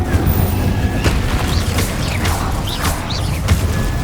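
Incendio fire spells blasting in Hogwarts Legacy, a steady roaring, crackling burst of flame with repeated whooshing hits, loud and close throughout.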